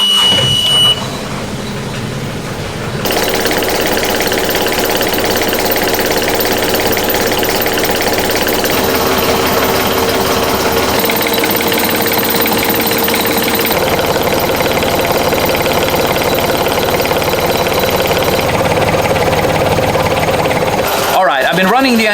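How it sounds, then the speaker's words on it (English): A boat engine runs steadily aboard a Prestige 460 Fly motor yacht with an oil leak, a dense continuous drone with a sharp cut-in after a few seconds and a brief dropout near the end. "I've been running the engine for some time now"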